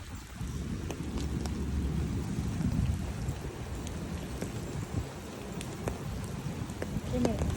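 Heavy rain in Gainesville near a library building, a steady, dense hiss of falling water with scattered drop impacts and runoff heading into a drain, lasting throughout at moderate loudness.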